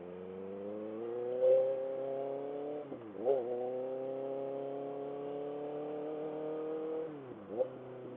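On a Sunday morning ride, a motorcycle accelerates hard and its engine drones in a rising tone, broken by several quick gear shifts where the pitch dips and climbs again. The sound stays steady and moderately close.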